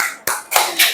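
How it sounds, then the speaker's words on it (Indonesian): A few sharp, close claps from an elementary school class, three or four separate loud slaps spaced across a brief moment. "Tepuk tangan untuk kelompok pertama"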